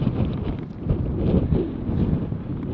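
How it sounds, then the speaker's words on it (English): Steady wind gusting across a mountain viewing area beside a steep drop, a broad low rumble buffeting the microphone, swelling and easing without pause. "The wind is not great, but viewing area is over here. A slight breeze."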